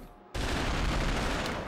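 Gunfire from a gun in the 2006 PS2 game Beverly Hills Cop, a sudden dense burst of rapid automatic shots that starts after a brief quiet moment and stays loud and continuous to the end.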